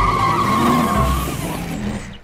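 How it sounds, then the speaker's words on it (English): A cartoon racing car engine roars, then tyres skid and squeal in one loud, sustained rush that fades toward the end, closing with a small bump. "Listen to my engine now, Big Chris."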